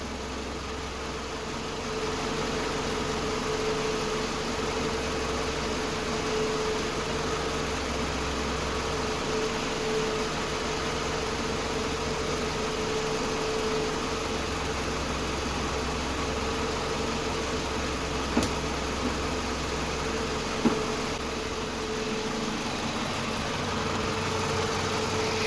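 Car engine idling steadily while its AC system is recharged with refrigerant, a close, constant low rumble with a couple of faint clicks near the end.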